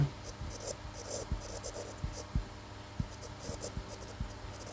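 Pen or pencil writing out a class 9 math solution on paper, a series of soft, close scratching strokes in irregular rhythm with brief pauses, quiet and alone.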